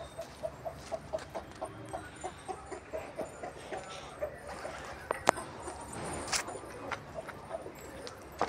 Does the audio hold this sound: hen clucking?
yes